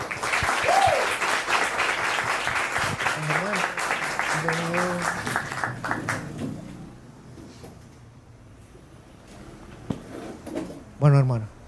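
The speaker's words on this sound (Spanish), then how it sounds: "Démosle un caluroso aplauso de bienvenida." An audience applauds warmly to welcome guest speaker Germán Escobar of Make It Real at a talk on education in Latin America. The dense, steady clapping lasts several seconds and fades out, with a voice talking over part of it.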